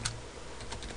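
Quick taps on a computer keyboard while composing an email in Outlook Web Access, a short close burst of soft clicking keystrokes with no voices.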